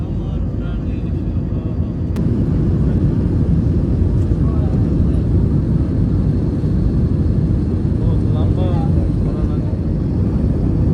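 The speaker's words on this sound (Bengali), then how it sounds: "প্লেনটা এখন বাঘা হচ্ছে আমি দেখতে পাচ্ছি ফাইনালি আমার শহর I am feeling so good আমরা এখন ল্যান্ডিং করছি" An airliner comes in to land in Bangladesh, heard from inside the cabin as a steady, loud low roar of engine and airflow throughout, with faint voices now and then beneath it.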